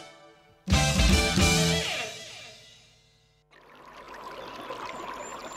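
Water pours in a loud, full burst for advertised purified water, splashing and gurgling for about two seconds before fading, then a quieter, steady trickle-like wash continues to the end.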